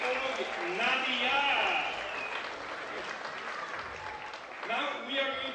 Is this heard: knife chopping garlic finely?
no